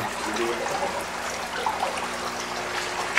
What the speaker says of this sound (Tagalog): Ayan, nasa overflow po sila. Tumutulo. Ayan, tumutulo sa dulo.